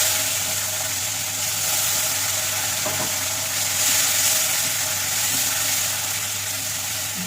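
A continuous, even hiss of onions frying in oil fills the scene, loud and steady with a faint low hum beneath.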